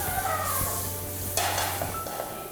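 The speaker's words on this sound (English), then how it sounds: "In this case, it's just melting butter." Butter melting in a pan on the stove for a roux gives a soft, steady sizzle with light scraping and stirring, close up and without talk.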